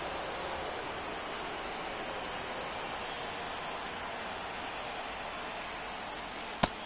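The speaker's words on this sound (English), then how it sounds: "the field's not going to be able to hold up if the rain gets any worse than this" Steady rain falls on a baseball field in the video game MLB The Show 24 during an NLCS Game 1 between the Atlanta Braves and Los Angeles Dodgers, a constant faint hiss with one brief sharp click near the end and no voices.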